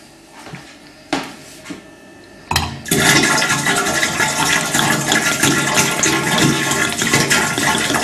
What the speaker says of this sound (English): So what we're gonna do, we're gonna take the spirit.